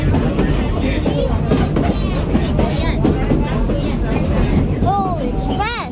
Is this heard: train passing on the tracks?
yes